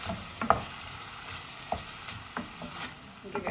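A pot of Jamaican callaloo gets stirred, a spoon clinking and scraping a few times over a faint steady sizzle, quiet and close.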